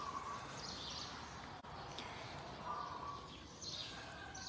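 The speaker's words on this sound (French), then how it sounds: "Et écoutez le chant des oiseaux le matin," Faint morning birdsong in Thailand drifts in from a distance, a few scattered chirps and short trills over a quiet outdoor background.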